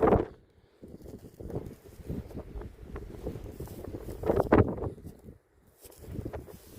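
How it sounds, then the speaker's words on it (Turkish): Strong gusty wind on a mountain summit buffets the microphone in heavy, uneven bursts, with a brief lull partway through and occasional rustling. "Çok fazla rüzgar var."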